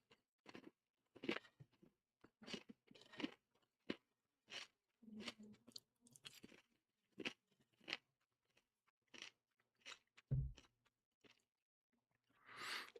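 Repeated crunching bites of Old Dutch All Dressed ridged potato chips, close and crisp, in sharp separate bursts with pauses between, ending in a louder crackle.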